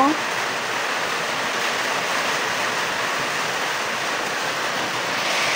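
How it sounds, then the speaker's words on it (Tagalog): Strong wind blows outdoors in a continuous loud rushing roar with no gusty breaks, lasting the whole stretch. "Malakas ang hangin guys dito sa amin."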